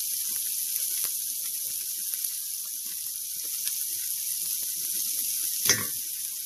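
Sausage frying in a thick-bottomed pan, a constant soft sizzle with faint crackles throughout and a brief louder scrape or stir near the end, close and without talk.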